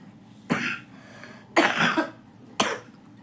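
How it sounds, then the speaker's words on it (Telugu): Three separate coughs from one person, close and clear indoors during a blouse stitching session, spaced about a second apart with the middle one longer and rougher. "దగ్గు వచ్చేస్తుందండి"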